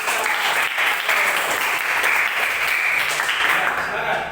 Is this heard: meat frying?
no